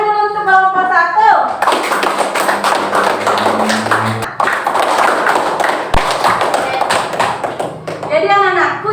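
Schoolchildren in a classroom clap together for a group, a burst of close, busy hand clapping lasting several seconds, with a teacher's voice before and after.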